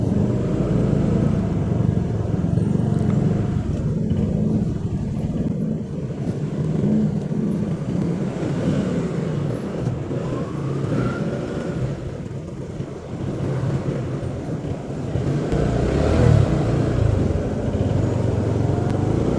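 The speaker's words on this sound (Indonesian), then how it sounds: "Nah ini masuk ke titik kemacetan pertama guys" A motorcycle crawls through a traffic jam, its engine a continuous low drone mixed with surrounding car traffic and wind buffeting the microphone, steady throughout with no speech.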